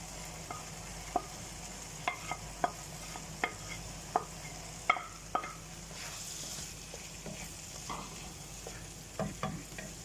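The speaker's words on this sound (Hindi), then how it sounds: "कीमा ऐड करने के बाद इसे भी हम 2 से 3 मिनट तक भूनेंगे" Minced meat (keema) frying in a pan with chillies and spice masala, a steady sizzle broken by sharp spatula clacks against the pan at irregular intervals, close and without talk.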